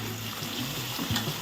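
Tomatoes hit softened onions frying in a pan for vangibath gojju, a soft, steady sizzle and hiss close by with a few faint clicks.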